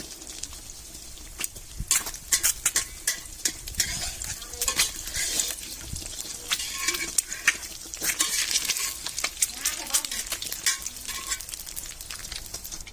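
Eggs frying in a pan for a home-cooked Thai breakfast, with a steady crackling sizzle broken by scattered sharp pops and scraping, clinking utensil sounds, and no talking.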